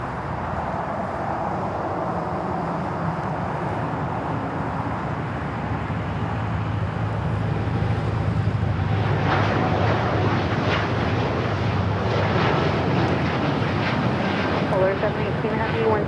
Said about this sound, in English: Air Tahiti Nui, the Dreamliner heading back to Paris, now rolling down 25 right